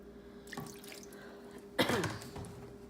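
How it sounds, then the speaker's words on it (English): A little water is poured into a roasting pan holding a butterflied chicken and vegetables: two faint, brief splashes, the second slightly stronger, over a quiet kitchen background. "just put a little bit of water, just a little bit of water underneath as a base just to kind of get things started"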